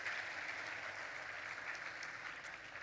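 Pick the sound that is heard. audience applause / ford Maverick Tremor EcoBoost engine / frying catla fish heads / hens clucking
audience applause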